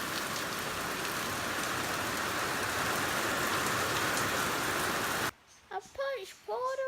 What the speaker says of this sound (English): It's just a deluge today.